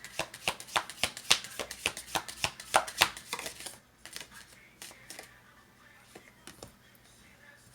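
Tarot cards are shuffled in a quick run of crisp riffles and slaps for several seconds, then the sound thins to a few scattered card taps in a quiet room.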